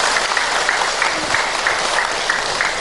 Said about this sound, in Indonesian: Tepuk tangan buat Ibu Hajah Unayah.